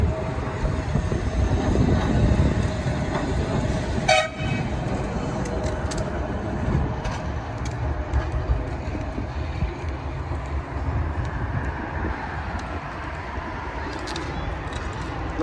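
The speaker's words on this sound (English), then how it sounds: "not often you get two old heritage trams heading towards Stargate" Two old heritage trams roll past at Blackpool on a winter day, a continuous low rumble of wheels on rails with a sharp metallic clank partway through, while outdoor ambience carries on around it.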